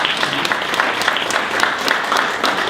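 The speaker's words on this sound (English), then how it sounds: "we'll leave with one last final round of applause for our speaker" Round of applause from an audience at the close of a digital marketing talk, steady dense clapping with crisp individual claps standing out, sustained and fairly loud throughout.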